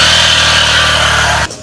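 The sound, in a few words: motorcycle engine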